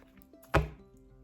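A single short tap as a deck of tarot cards is cut during a love horoscope reading, one sharp close knock with quiet around it.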